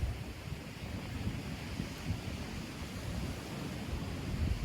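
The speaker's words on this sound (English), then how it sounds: "We can sit and stare at the ocean. There's something so captivating about it. The way it moves, the breeze that it gives." Steady ocean surf with a soft breeze and some wind buffeting on the microphone, a continuous low rolling wash at moderate level with no voices.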